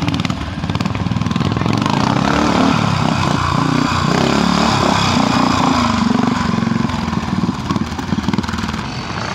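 A Royal Enfield motorcycle with springer front forks runs at a Crag Vale trials event, its engine a loud, steady, close drone that holds for the whole stretch without a break.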